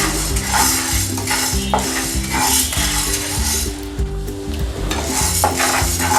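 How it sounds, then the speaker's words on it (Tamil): Urad dal frying in a pan sizzles continuously while a metal spoon stirs and scrapes it with repeated clinks and knocks, close and busy throughout without any voices. "உளுந்தோட வாசம் வர வரைக்கும் அதை நல்லா ஃப்ரை பண்ணி எடுத்துக்கலாம்"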